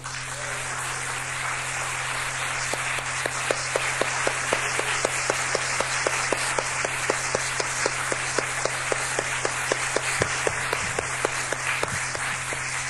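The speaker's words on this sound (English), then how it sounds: "please give a rousing round of applause for our General Director, Dick Causton." Crowd applause with sharp, rapid claps over a steady roar, sustained and fairly loud throughout, no talking.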